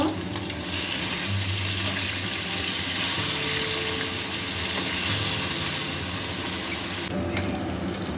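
Amrui fish sizzling in hot salted oil in a wok, a steady close frying hiss with soft stirring and spatter running throughout, no talk.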